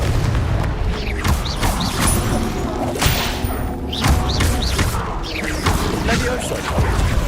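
Repeated spell blasts and thuds from Confringo casting in the video game Hogwarts Legacy, loud booming impacts scattered through a busy combat mix with other spell effects, while a voice speaks over the action.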